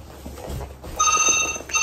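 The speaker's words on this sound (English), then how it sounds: "Is the phone that's ringing?" A telephone rings in a home in Lagos, its bright electronic tone starting about halfway through and cutting in loudly over background chatter and room noise.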